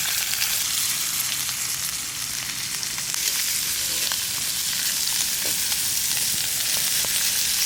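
Fish frying in a pan gives a constant, loud, crackling sizzle up close, with small pops scattered through the steady hiss.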